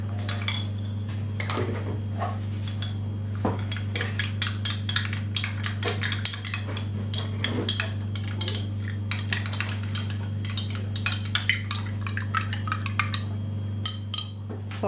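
A metal spoon stirs starch into a mixture of vinegar and water, clinking steadily against the bowl for a long stretch over a constant low hum.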